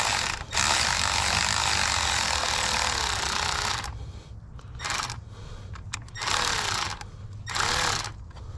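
Ratchet wrench working on the intake manifold of a Lexus 2UZ-FE V8, a loud, rapid continuous clicking up close for several seconds, then shorter bursts of ratcheting with pauses between.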